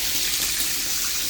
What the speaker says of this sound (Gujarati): તો પાણી આવી ગયું છે ગાઈસ